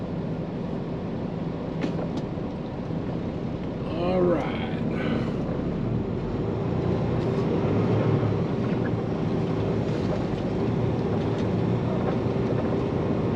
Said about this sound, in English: I'm gonna let this truck come by.